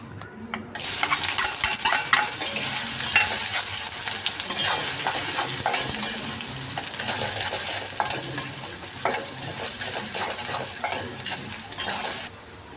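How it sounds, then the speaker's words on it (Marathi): After a quiet start, onion hits hot oil in a wok with a sudden burst of sizzling, followed by steady frying and scraping stirs. "मी कढईमध्ये तेल टाकलेलं आहे। आता मी कांदा टाकते आहे त्याच्यामध्ये।"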